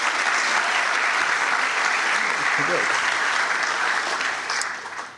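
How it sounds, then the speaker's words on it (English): Auditorium audience at a storytelling gratitude event giving a loud, continuous round of applause, dense and even before tapering off at the close. "How about a round of applause for the great man?"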